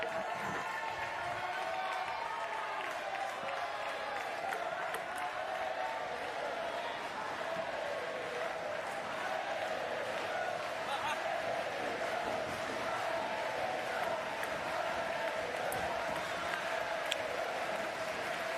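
Crowd at a para table tennis standing doubles match cheering and applauding, a continuous murmur of clapping and voices at moderate distance, with commentary-like talk over it throughout.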